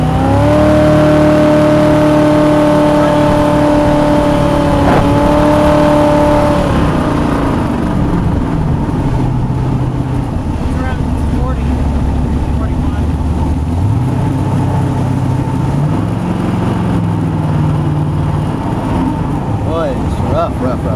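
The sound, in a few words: jet boat motor running rough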